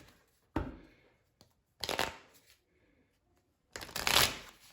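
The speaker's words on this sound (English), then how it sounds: "Shuffle all of our cards together." Playing cards are riffle-shuffled three times in quick bursts, each a crisp fluttering rattle separated by short pauses, close and fairly quiet.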